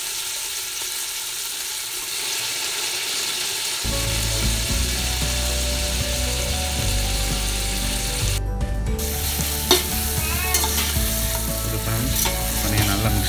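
Beef pieces for a Sri Lankan beef biryani frying dry in a pot with no water, a loud continuous crackling sizzle that jumps up after a quieter start, with occasional utensil clinks close by.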